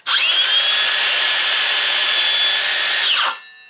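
A Makita XSH03 18V LXT brushless cordless 6-1/2 inch circular saw whirs up to a loud, steady high-pitched spin, runs unloaded for about three seconds, then the electric brake stops it abruptly.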